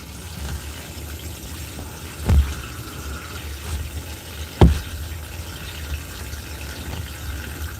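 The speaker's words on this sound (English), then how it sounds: "So slowly I'm just adding some water" A garden hose runs water into a container of gym chalk mixed with baby powder, giving a steady faint filling hiss with two brief louder splashes partway through.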